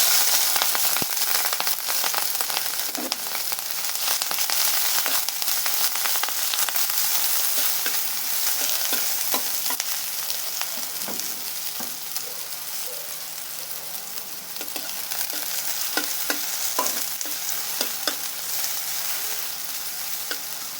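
Chopped onion and green chilli fry in a pan as the methi shaak dish is cooked, with a loud, steady close sizzle running throughout and occasional spoon clicks and scrapes, with no talking.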